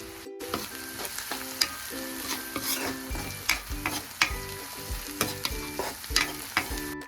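A spatula scrapes and clatters against a pan as an egg stir-fry with turmeric is stirred, the strokes close and irregular over a steady background sizzle.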